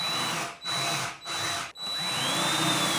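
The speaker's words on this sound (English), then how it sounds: "I am gonna pre-drill because these screws are really brittle" A power drill pre-drilling into hickory hardwood whirs in three short bursts with brief pauses between, then runs steadily, close and fairly loud.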